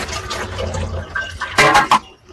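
Water is tipped off settled wheat starch during traditional kurdai making: soft trickling at first, then a short loud pour and splash near the end before it trails off.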